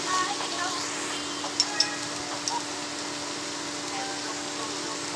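Spices fry in a pan for a white kurma as they are stirred, a soft, even sizzling hiss with a couple of small utensil taps along the way.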